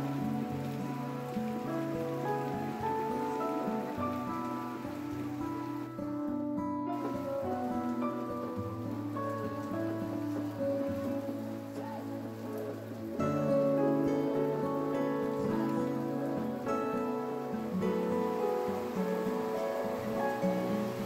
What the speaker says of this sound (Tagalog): Lumakas pa ang ulan ng mga oras na ito.